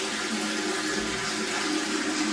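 A toilet flushing, apparently on its own, heard as a steady rushing wash of water that fills the whole moment at close range without pause.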